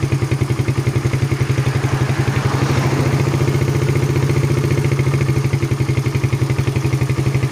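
A Suzuki Satria FU motorcycle with a power drop at mid-to-high revs runs steadily up close, its engine giving a loud, even, rapid pulsing idle throughout with no voices over it.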